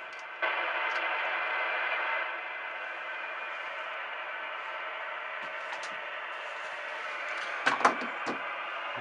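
Hiss and static from a homebrew amateur radio receiver built for the ARRL Homebrew Challenge, running without its 10-meter antenna: a steady broadband rush with faint tones and a few short clicks near the end, with no voices.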